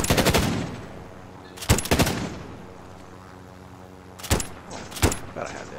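Gunfire in Call of Duty: Warzone: loud bursts of rapid automatic fire in three or four separate clusters, one at the start and others after quiet gaps, with softer background game ambience between them.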